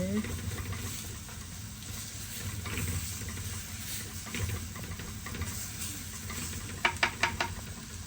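Lamb intestine curry sautéing and being stirred in a pan makes a soft, continuous sizzle and hiss, with a few sharp scraping clicks near the end; someone talks over it.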